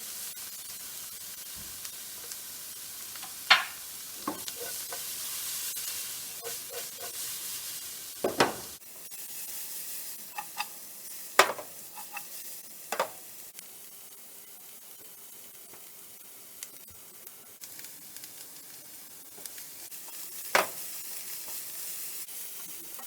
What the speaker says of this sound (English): This is how they cook. They try to toss rather than stirring it.